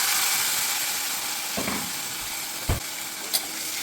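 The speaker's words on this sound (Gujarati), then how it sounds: "તેલ ગરમ થઈ ગયું છે, તેમાં જીરું, હિંગ, હળદર અને શાક નાખી દઈએ" Cumin, asafoetida, turmeric and vegetables sizzling in hot oil for Gujarati dal, a steady close hiss with a couple of sharp clinks and a stirring scrape, no talking.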